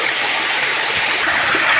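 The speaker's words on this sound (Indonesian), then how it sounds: "sekarang saya lagi berada di sebuah sungai yang lumayan jauh dari pemukiman, sekitar 500 meter dari pemukiman penduduk" River flowing far from a village, a loud continuous rush and hiss of water that stays even throughout with no voices over it.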